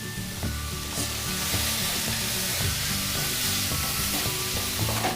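Ground spices with salt, turmeric and coriander sizzling and frying in oil in a pan for a fish head curry with papaya, a loud continuous crackle with occasional stirring scrapes and no talk.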